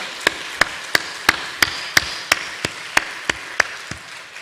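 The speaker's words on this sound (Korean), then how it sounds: "우리 어둠 밤에도 우리를 인도하여 주신 하나님 앞에 감사와 영광의 박수를 힘차게 돌리겠습니다" Church congregation at worship giving rhythmic unison claps, about a dozen sharp, evenly spaced beats over a soft wash of background sound.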